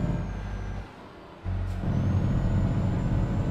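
A truck air brake in a truck-driving video game gives a sharp hissing release that briefly cuts through a steady low diesel engine drone, after which the engine rumble returns louder and continues alone.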